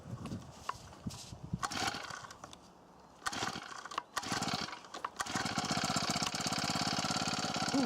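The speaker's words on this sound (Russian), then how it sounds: "Ну вот. Это на холодную она так заводится." Akita petrol trimmer with a four-stroke Honda GX35 engine cranking and catching from cold, with irregular pulls and sputters before settling into a loud, steady near running rumble.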